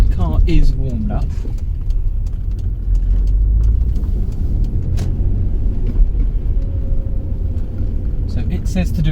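A warmed-up Alfa Romeo 156 engine idles with a steady low rumble close by, under a person talking throughout.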